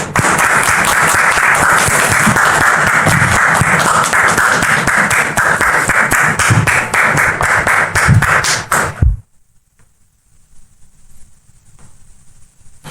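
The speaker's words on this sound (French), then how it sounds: "Sous vos applaudissements, s'il vous plaît." Studio audience on a French-language TV talk show applauds a guest being welcomed, dense sustained clapping for about nine seconds before cutting off abruptly into near silence.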